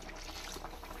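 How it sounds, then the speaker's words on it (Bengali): Water poured into a cooking pot of simmering vegetables and fish, a soft, faint trickling splash lasting about a second, close by and without speech. "বন্ধুরা আর একটু জল দিয়ে দিলাম।"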